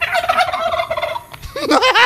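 A turkey gobbles loudly and close by, a rapid warbling burst, then another gobble after a short pause.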